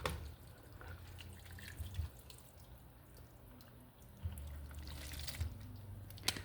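Liquid poured into a small bowl in a home kitchen near the stove gives a faint, quiet trickle and dripping that comes and goes over low background hum.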